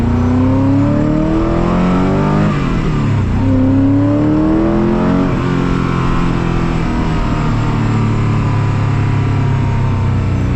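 A Koenigsegg CCX sports car engine revs and accelerates loudly through the gears on the Autobahn, pitch climbing, dipping at a shift, then climbing again, heard close from inside or near the car.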